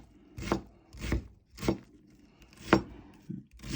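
Two peeled onions being sliced with a knife for courgettes à la provençale, giving five distinct thudding chops on a board at a steady, unhurried pace, close and fairly loud with no talking.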